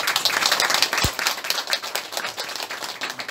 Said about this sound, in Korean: 하나님께 감사와 영광의 박수 한번 같이 올려드립니다